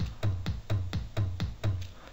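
A steady electronic drum pattern of punchy, booming tom hits with short transients, repeating in an even rhythm, programmed in FL Studio for electro house, no voices.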